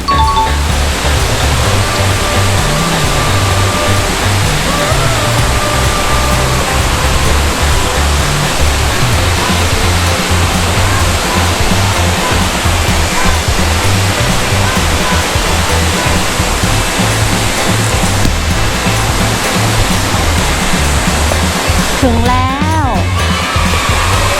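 Steady, loud rushing roar of a waterfall at Mae Kampong village in a hilly stream valley, filling the whole stretch without a break, with a faint voice barely surfacing near the end.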